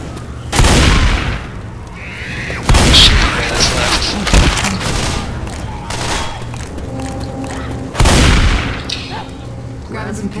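A Molotov cocktail is thrown in the video game Left 4 Dead and bursts with several deep booming thumps amid game gunfire, with a voice talking over the action.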